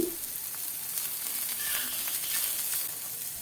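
Green chillies and finely chopped onions fry in a pan, a steady close hiss of sizzling oil with faint stirring scrapes and no voices.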